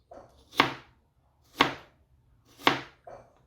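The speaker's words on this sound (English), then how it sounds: "Now you can slice this into smaller bits" A knife cutting bread into smaller pieces, three distinct crunchy slicing strokes about a second apart, each preceded by a soft lighter touch, close and clear with no talking.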